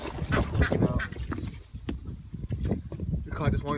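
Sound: ducks quacking in garden

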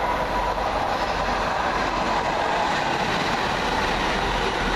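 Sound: train arriving at station

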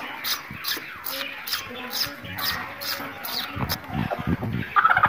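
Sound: hen clucking

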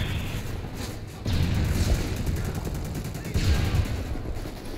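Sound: gunfire in video game Call of Duty: Modern Warfare 3

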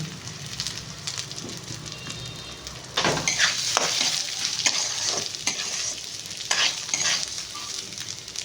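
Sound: mixing food in a wok (kadai)

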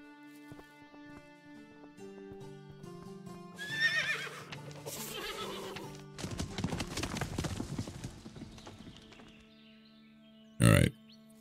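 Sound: horse neighing and hooves in video game Above Snakes

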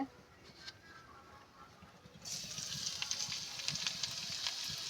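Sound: garlic and onion frying in hot oil

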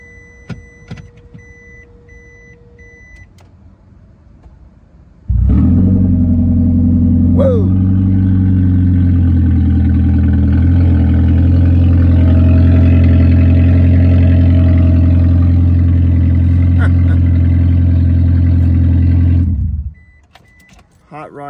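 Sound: Toyota Prius engine starting and running without catalytic converter

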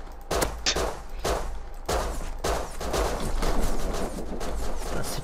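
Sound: gunfire in the video game Rust

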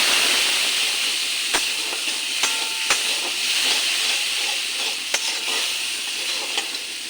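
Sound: spice paste with turmeric and salt sautéing in pan

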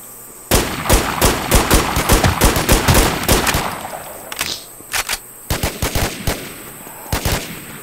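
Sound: sniper gunfire in The War Z video game

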